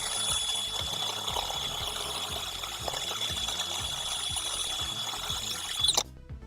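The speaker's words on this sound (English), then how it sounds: "He's just drilling out a little bit of plastic cavities there." A drill bores out plastic cavities in a workshop, giving a steady, fairly quiet whir with small repeated ratcheting clicks that cuts off abruptly near the end.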